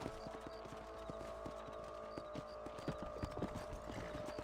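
Horses ridden across a ranch property in Red Dead Redemption give an even, rhythmic clip-clop of hooves, fairly faint, over a low steady background.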